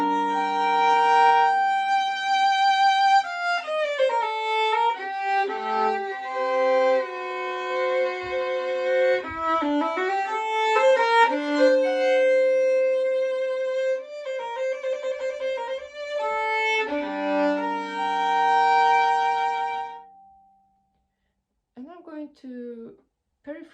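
A solo violin plays a passage from a Bach partita from the first sonata, shifting melodic lines sustained for about twenty seconds before stopping, followed by a few faint scattered sounds.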